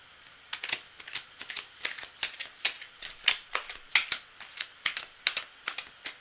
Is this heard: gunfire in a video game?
no